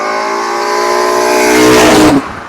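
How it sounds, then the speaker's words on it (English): VW 07K five-cylinder engine in a Mk2 Golf revs hard with loud intake induction roar, pitch climbing steadily before cutting off abruptly near the end. "And like the induction noise from the intake manifold"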